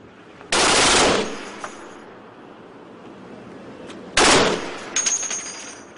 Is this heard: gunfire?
yes